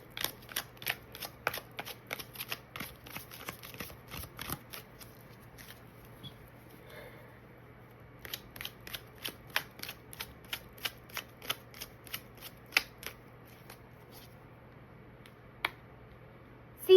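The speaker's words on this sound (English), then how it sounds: "I am going to pull one other card." Tarot cards are shuffled and drawn in quick, rhythmic bursts of crisp riffling clicks, pausing briefly before the snapping flutter resumes, close and alone with no talking.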